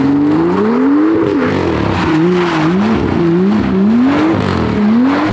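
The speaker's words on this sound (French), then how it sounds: "Le meilleur bruit de la terre mec, juste pour ça je voulais me racheter une 335i DKG phase 2" A BMW 335i with a DKG dual-clutch gearbox revs repeatedly, its engine pitch climbing and dropping in loud, close surges without any voices.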